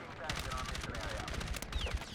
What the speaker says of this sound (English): I'm gonna frag that really quick